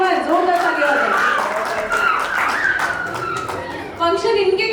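Audience applause at a company's anniversary celebration, a burst of clapping mixed with loud voices and cheering, continuous and close.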